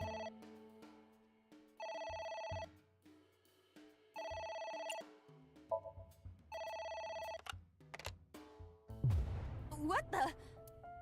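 A telephone rings in the video game AI: The Somnium Files, with repeated bursts of a bright electronic ring separated by short pauses, under game music and effects, ending in a rising jumble of game sounds.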